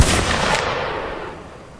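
A musket volley from line infantry in Mount and Blade: Napoleonic Wars: one loud, broad crackling blast at the start that rolls out into a long, fading rumble with no voices.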